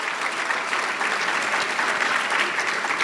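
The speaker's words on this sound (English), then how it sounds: "please clap for her" Audience at an annual general meeting's opening ceremonies clapping for a dignitary, a steady dense patter of many hands held at an even level throughout.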